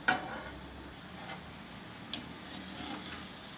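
Sweet potato gulab jamun balls fry in hot oil with a faint, steady sizzle, broken by a few soft clicks and taps from a utensil against the pan.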